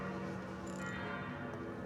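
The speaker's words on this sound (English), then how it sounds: "Hear the church bells?" Church bells ring continuously at a distance in Italy, a dense wash of overlapping tolls with steady, moderate loudness and no voices.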